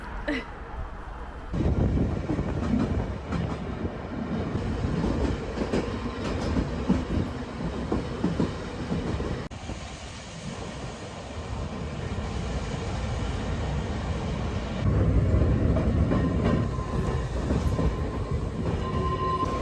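An electric tram on the Isle of Man rumbles and clatters along its rails for a long stretch, wheels clicking and squealing, with people talking quietly over the steady noise.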